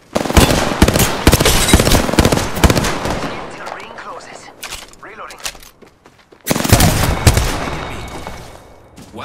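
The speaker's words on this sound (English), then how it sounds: "They're shooting at me. They spotted me. I'm taking shots." Gunfire in the battle-royale game Apex Legends rattles close and loud in dense rapid bursts. A brief lull is followed by another heavy volley, with a voice speaking over the shooting.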